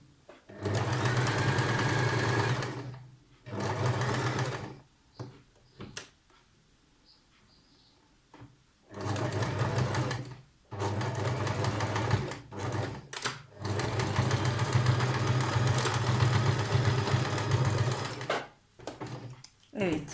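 Sewing machine stitching a blouse shoulder seam, several long bursts of steady whirring broken by short pauses, loud and close, with no talk over it.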